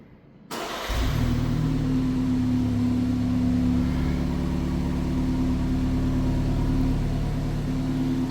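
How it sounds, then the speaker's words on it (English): A 2027 BMW 430i xDrive coupe cold-starts by remote: the starter whirs briefly, then the engine catches and settles into a steady, loud, elevated idle with a constant hum, heard from close by with no talking. "So that is your remote engine start, cold start sound."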